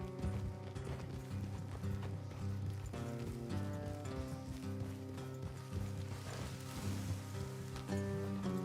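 Horses ridden at speed in Red Dead Redemption 2, hooves clip-clopping steadily under a full, continuous bed of game music, fairly faint and partly masked.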